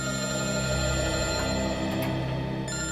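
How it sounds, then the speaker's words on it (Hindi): A telephone rings steadily in an indoor setting, its tonal electronic ring held at a moderate level with a few faint clicks, no speech over it. "सर, टूर कंपनी वालों का फोन।"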